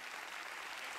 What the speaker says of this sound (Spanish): vaya entonces el aplauso de todos ustedes